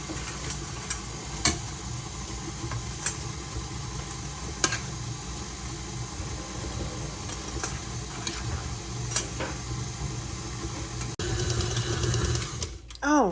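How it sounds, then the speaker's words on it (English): A mixer beats cocoa into wet cookie batter for white chocolate cocoa cookies, its steady whir running under nearly the whole stretch, with a brief shift near the end as a voice speaks. "Now we're going to start mixing this into our wet mixture."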